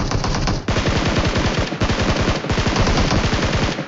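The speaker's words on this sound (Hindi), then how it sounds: "यहाँ पे मैंने जो है बार बार फायर रोक के स्टार्ट किया" Rapid automatic gunfire in the mobile battle royale game PUBG Mobile, loud, dense bursts of fast shots that stop briefly and start again, with no talking.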